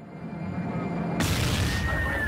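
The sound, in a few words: explosion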